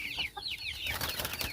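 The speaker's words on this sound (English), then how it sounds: "this is my bantam hen" A bantam hen on a farm in the Philippines clucks in a few quick, soft calls close by, over a steady outdoor background hum.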